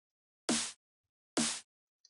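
Dry snare sample from Vengeance Essential Club Sounds 2 played without effects: two short, clean, bright hits that cut off quickly into silence, followed by a faint tiny click.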